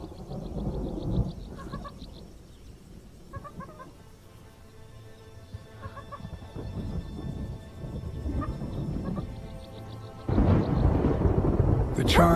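A colossal thunderstorm over the Kalahari, with low rumbling thunder rolling in waves and a loud crack near the end, while chickens cluck intermittently in the background and a voice narrates.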